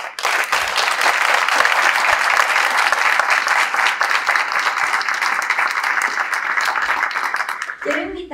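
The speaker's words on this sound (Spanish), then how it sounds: "Les brindamos nuevamente un fuerte aplauso" Loud, sustained applause from an audience at a poetry recitation event, a dense wash of clapping that holds steady for several seconds before tapering off at the end.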